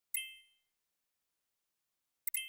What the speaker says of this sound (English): my phone is blowing up.